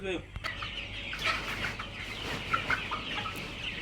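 Several chickens cluck and murmur close by, a busy overlapping chatter of short calls, with a few sharper peeps standing out.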